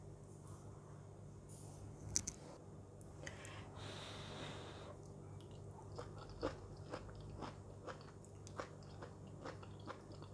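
Close, quiet crunching and chewing of stir-fried loofah with prawns and egg, irregular bites and mouth sounds with some breathing, no talking.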